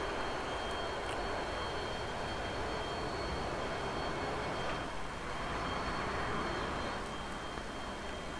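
The left engine of an SR-71 Blackbird in DCS World produces a dense, steady, loud jet roar with a thin high whine. It holds constant throughout with no pauses, and no one speaks.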